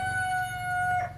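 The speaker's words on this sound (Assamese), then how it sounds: "এই টাৰ্কি মুৰ্গী" A turkey calling on a goat and poultry farm, with a sustained, tonal, whistle-like call held steadily close by against a low background rumble.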